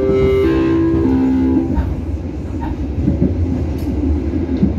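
An Indonesian Railways Serayu train rolls through Maos station, a steady loud rumble of wagons and wheels after a fading horn-like tone at the start, with no talk.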